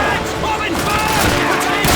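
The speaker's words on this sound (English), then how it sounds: "Open fire!" Dense gunfire from a World War II battle in Call of Duty 2 at El Alamein, loud continuous bursts and blasts filling the scene, with shouted voices mixed in.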